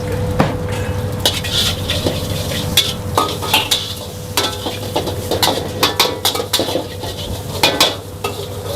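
Nasi goreng sizzles in a pan as a utensil stirs and scrapes it, making repeated close metallic clinks and scrapes over a constant frying hiss.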